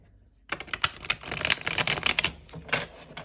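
A tarot card deck shuffled by hand at close range, a dense run of crisp papery clicks and flutters starting after a short quiet moment and continuing steadily to the end, with no voices.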